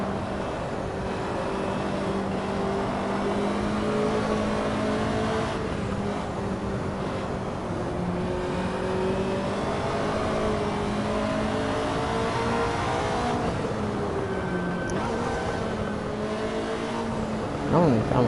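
Ferrari race car engine in Assetto Corsa, a loud continuous whine rising through the revs with gear shifts dropping the pitch, including a short shift, with a voice talking over the engine at times.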